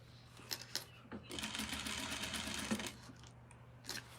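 A sewing machine stitches a simple skirt, running in a steady mechanical whir for about two seconds with a few sharp clicks and taps before and after, close up and fairly quiet, with the bobbin failing to catch.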